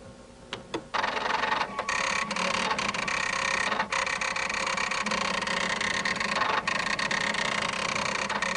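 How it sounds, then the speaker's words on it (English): A daisy wheel printer hooked to a Xerox computer prints a memo, rapid dense mechanical clattering starting after a few isolated ticks and running continuously and fairly close. "The most popular printers that do this are called daisy wheel printers."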